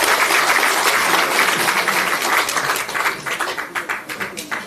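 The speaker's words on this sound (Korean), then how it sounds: "다 같이 박수 한번 보내주시기 바랍니다." Party members at a Democratic Party of Korea event give sustained applause, a dense roomful of clapping that thins into scattered, uneven claps toward the end.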